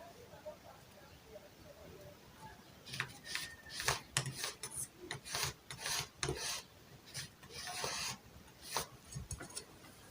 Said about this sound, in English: I will mark it out with my ruler.